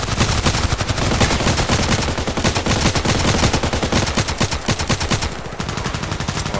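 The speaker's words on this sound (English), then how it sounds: "Wow, almost 20 shots." Rapid, loud bursts of rifle fire from a KelTec RFB in the Contract Wars shooter game, a near-continuous stream of close shots running nearly the whole stretch with a brief lull near the end.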